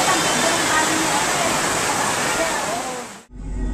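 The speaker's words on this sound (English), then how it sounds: "So, it's still raining." Steady rain pours down during a wet afternoon in the Philippines, a dense, even hiss like water splashing onto surfaces that holds for over three seconds, then cuts off abruptly before a low rumble returns.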